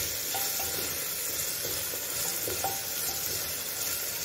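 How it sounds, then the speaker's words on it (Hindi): Finely chopped onions fry in a pan until golden, a steady close sizzle and hiss with faint stirring scrapes throughout. "इसको प्याज को थोड़ा सा गोल्डन होने तक भून लेते हैं।"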